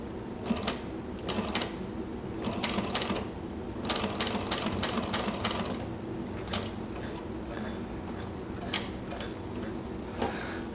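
A walking foot sewing machine stitches in short, uneven runs, its needle ticking rapidly over a low mechanical hum, close and moderately loud, with brief pauses between bursts.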